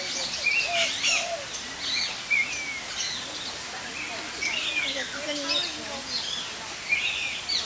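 Starlings chirp and whistle around a bird feeder, a steady stream of bright, squeaky calls and trills repeating throughout at moderate distance, with faint rustling underneath.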